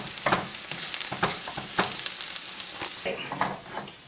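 Potato filling mixture sizzles and fries in a pan over medium heat while a utensil stirs it, giving irregular scraping pushes over a steady close crackle.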